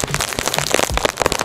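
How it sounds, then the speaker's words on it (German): Rain falls during a holiday in the Dominican Republic, a close, busy patter of drops striking a surface with sharp crackling hits scattered irregularly across the steady wash. "Es regnet gerade."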